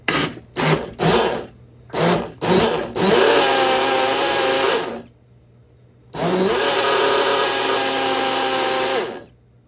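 A small blender whirs close by in a few quick pulses, then runs in two longer bursts with a pause between.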